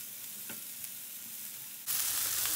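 Sautéed onions sizzling softly in a pan, then peppers are tipped in and the frying hiss jumps abruptly louder and stays steady and close.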